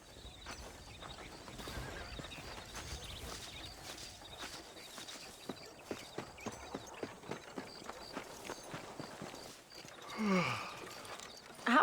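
Horse hooves clip-clop at a steady walking pace in Red Dead Redemption, a regular run of distinct close hoofbeats over a busy western background, with a brief whinny-like flourish near the end.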